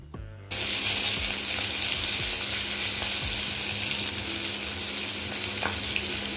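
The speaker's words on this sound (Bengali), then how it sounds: "মাছ ভাজা বসিয়ে দিয়েছি।" Fish frying in a pan at home, a steady, close hiss and sizzle of hot oil starting abruptly after a brief quiet moment and continuing evenly with faint clinks.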